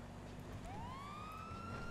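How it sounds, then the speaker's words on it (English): Police car siren from a New Zealand police roleplay in a video game, rising in a steady wail that sweeps up and holds over a constant engine rumble, loud and close with no talk. "Get the sirens"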